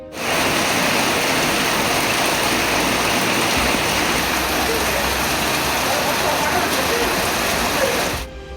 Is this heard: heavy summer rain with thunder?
yes